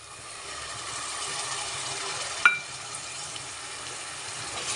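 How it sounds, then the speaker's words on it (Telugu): Tomato pulp frying in a pan over a medium flame, a steady soft sizzle throughout with one brief sharper crackle near the middle, close and fairly quiet. "2 నిమిషాల పాటు టమాటా గుజ్జును కూడా బాగా వేపాలి"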